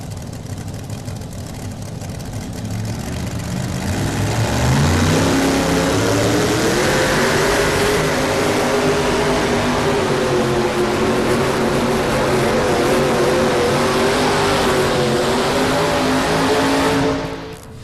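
A truck's engine roars under heavy load during a truck pull on a dirt track at the 1993 National Farm Machinery Show, rising from a rumble to a loud sustained howl that holds steady for many seconds before cutting off.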